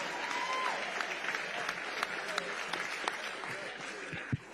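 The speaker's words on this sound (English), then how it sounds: "I heard that rousing applause for Beto." A crowd at a Midwest political rally breaks into rousing applause, dense sustained clapping with some cheering and voices mixed in, loud and close, fading slightly before a final sharp clap.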